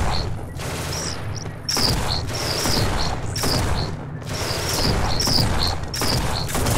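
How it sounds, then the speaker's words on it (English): Rapid shotgun blasts in the sci-fi shooter Genesis Alpha One during an alien attack on a mining base, several loud booming shots in irregular bursts with high metallic clatter after each. "This is a shotgun."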